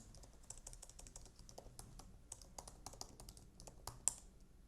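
Rapid, uneven clicking of keys on a computer keyboard as JavaScript code is typed, close and fairly quiet, with steady keystrokes and an occasional sharper tap and no voices.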